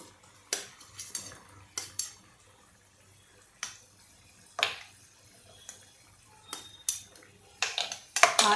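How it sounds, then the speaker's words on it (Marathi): Baby potatoes dropped into simmering gravy in a cooking pot: several sharp clinks and knocks of potatoes and utensil against the pot, scattered irregularly, close and fairly quiet with pauses between. "आता या ग्रेव्हीमध्ये मी हे बटाटे घालते"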